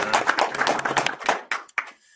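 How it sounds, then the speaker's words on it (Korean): A lecture audience claps in welcome, a short burst of dense hand claps that thins into a few last isolated claps. "우리 함께 박수로 서로 환영하겠습니다."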